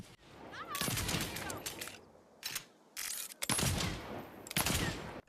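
Rapid bursts of gunfire from the video game Saints Row (2022) crackle in several loud volleys, separated by short pauses, with sharp mechanical clicks between bursts.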